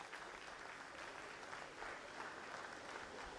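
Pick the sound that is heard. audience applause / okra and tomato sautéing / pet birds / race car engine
audience applause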